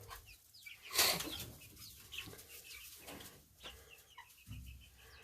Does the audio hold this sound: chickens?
yes